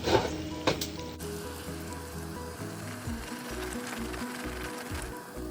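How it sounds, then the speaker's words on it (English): Steady sizzling and crackling of chicken strips frying in hot oil, continuous and close, with no talking. "Frying will take 3 to 5 minutes."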